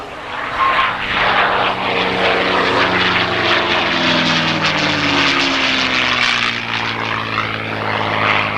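A propeller aircraft makes its final approach at an RAF airshow, its loud engine drone shifting in pitch as it passes nearby.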